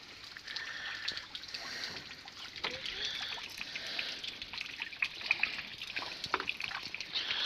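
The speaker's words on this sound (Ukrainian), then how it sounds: "Дощик помішав усе." Rain dripping and trickling outdoors near a vegetable garden, a faint, irregular patter of drops and running water with soft talk faintly underneath.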